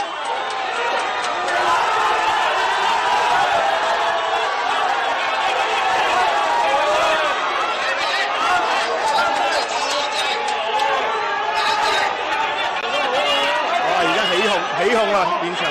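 A crowd of bystanders at a street scene in Tseung Kwan O jeers and clamours after a bicycle drops from a footbridge onto a police officer, a dense, steady wall of chatter and raised voices with scattered laughter throughout.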